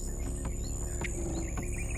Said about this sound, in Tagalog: Iba yung huni ng ibon na maririnig mo.